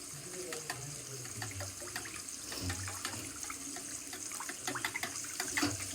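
Running tap water splashes steadily over something being washed in a home kitchen sink during cooking, a continuous watery hiss with small clatters, no talking.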